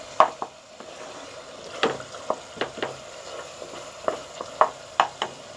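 Minced meat qeema frying in a pan, a low sizzle broken by sharp spatula scrapes and taps at an uneven pace, close up with no voices.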